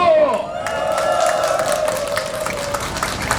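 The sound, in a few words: crowd applause and cheering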